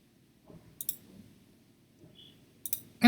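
Mouse clicks on a software app prototype button, a few sharp isolated clicks spaced apart over a quiet background, close and crisp.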